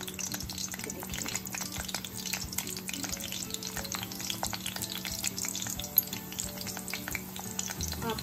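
Chopped onions frying for Schezwan fried rice, a steady close sizzle with frequent scraping stir strokes and a light clink of a utensil, no talking.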